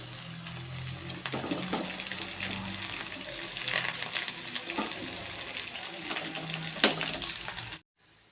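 Garlic frying and sizzling in hot oil for a North Karnataka chooda snack, a steady close sizzle with occasional stirring clicks and scrapes, no talking.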